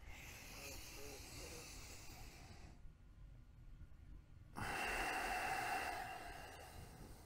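Deep breathing during a Kundalini yoga breath exercise, a long breathy hiss, a quiet pause, then a stronger, fuller inhale, close to the microphone with no speech.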